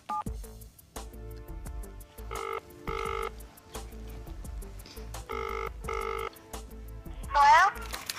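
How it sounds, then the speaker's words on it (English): A telephone call being placed: a rising dial tone, then two pairs of regular ringing tones with a pause between them, ending in a short warbling sound as the line connects, with little else around it. "Let's make that phone call."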